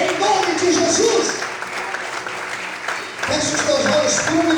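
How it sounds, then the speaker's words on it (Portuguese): A church congregation claps in sustained, dense applause throughout, while a preacher's voice carries loudly over it. "aplauda a Deus nessa noite, em nome de Jesus"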